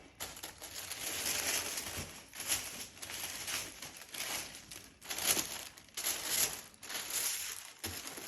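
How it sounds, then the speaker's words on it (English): Crinkling wrapping paper pulled from a Hermès package during an unboxing, a close, continuous rustle with sharper crackling bursts recurring every second or so. "The sound of this paper is literally the most exciting thing in the world."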